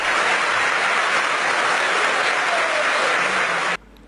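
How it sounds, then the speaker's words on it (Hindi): Thunderous applause fills an auditorium as a crowd greets an arriving leader, a dense continuous roar of clapping at constant loudness that cuts off abruptly near the end. "तालियों की गड़गड़ाहट से पूरा सभागार गूंज उठता है"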